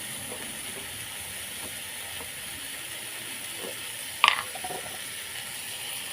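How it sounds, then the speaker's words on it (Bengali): Dhenki shak greens fry with shrimp in a little oil, making a faint, even hiss that runs throughout, broken once by a brief sharp clatter of a utensil against the pan. "অল্প একটু তেল দিয়ে আমি শাকটাকে ভালো করে ভেজে নেব।"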